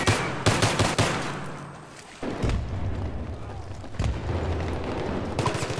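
Gunfire in a multiplayer shooter video game, rapid automatic bursts and booms rolling through the whole stretch under excited player voices and game chatter.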